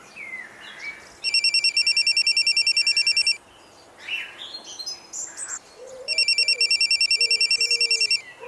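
A telephone rings in two long bursts of rapid electronic trilling separated by a pause, loud and close, with brief chirpy sounds in the gap.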